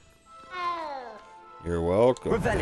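Cats meow in the Hogwarts Legacy video game, two drawn-out cries in succession, the second louder and more insistent, close and clear with a short voice at the end.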